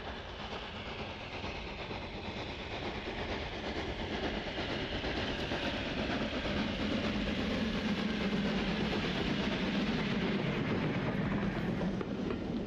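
Tank engine 30075 works hard pulling a train out of Corfe toward Harmon's Cross, a steady chugging rumble with rhythmic clatter of wheels, fairly close and constant.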